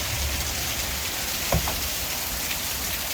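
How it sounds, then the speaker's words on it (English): Heavy summer rain pours in a dense, constant hiss of drops striking surfaces near a hilltop cottage in New England, with one brief knock partway through and no speech. "the skies opened up and started pouring. Summer rain"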